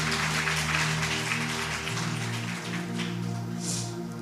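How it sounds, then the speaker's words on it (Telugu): A church congregation applauds in a dense, steady, rain-like wash of clapping that continues over sustained musical tones, with no talk. "చప్పట్లు కొడతాం ప్రభుని"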